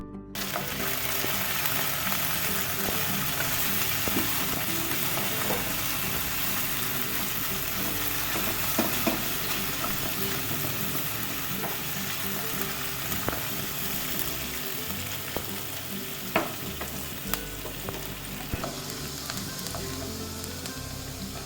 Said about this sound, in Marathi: कांदा थोडा परतून घ्यायचा.